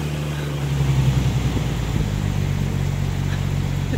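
An old Jeep engine drones steadily as it drives, a low rumbling hum with faint rises in revs, continuous and fairly close with no talking.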